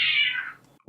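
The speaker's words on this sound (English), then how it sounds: "That was my cats having an argument" A pet cat lets out one loud, drawn-out angry yowl during a squabble between cats indoors, sliding downward and fading, followed by a short low thump.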